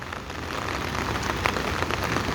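Steady rain pours down in Araku, a dense, even hiss of drops striking surfaces close by, continuous throughout with no voices.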